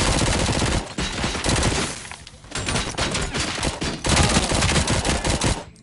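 Dense bursts of automatic gunfire fill a RoboCop video game battle, loud and close, with rapid overlapping volleys broken by brief pauses.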